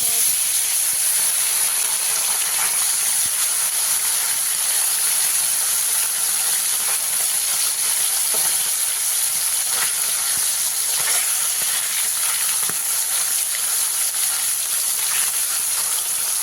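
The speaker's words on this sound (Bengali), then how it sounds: "সব মাছ একসাথে দেবো না অল্প অল্প মাছ দিয়ে আমি ভেজে নিই" Amudi fish frying in hot oil in a wok over a medium gas flame, a steady loud broadband hiss and sizzle throughout, close and continuous, no talk.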